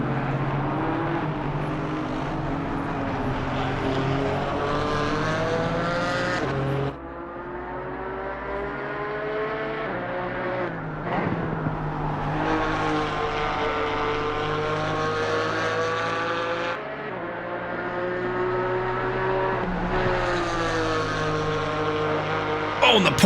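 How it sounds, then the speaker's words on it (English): A Porsche GT4 race car at full throttle at Zandvoort, its engine note rising and falling through gear changes in a sustained loud drone, with a race commentator talking over it throughout. "the Porsche full out, trying to go flat out at the final corner"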